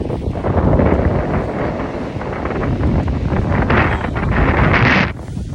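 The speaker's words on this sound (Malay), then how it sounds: "Angin kuat." Strong wind at the Sapporo Kokusai Ski Resort roars steadily across the microphone, loud and buffeting, swelling in gusts and easing briefly at the very end.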